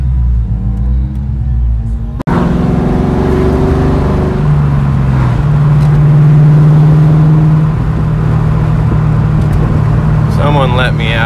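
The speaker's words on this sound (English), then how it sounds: "This is a back road, and it's just car after car after car." Car after car moves along a busy back road in the afternoon, a loud, continuous engine rumble and tire drone that swells and fades as vehicles pass, with a brief whir near the end.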